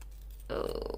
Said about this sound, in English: I want to take this washi tape and hopefully I can rip it